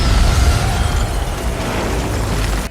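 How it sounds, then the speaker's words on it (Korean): A steel mill explodes in a Netflix feature film, producing a loud, sustained roaring blast with deep rumble and crackling debris that stays dense and powerful for nearly three seconds. "제철소가 폭발합니다"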